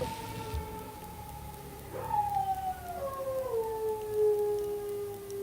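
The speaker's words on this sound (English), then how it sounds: "You can hear my dog howling to the sirens in the background." A half-wolf dog howls along with distant emergency sirens, long wavering howls rising and falling over faint steady siren wails, with no voices.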